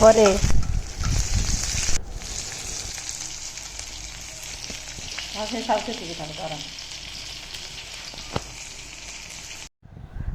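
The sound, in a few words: eggplant and tomato frying in a pan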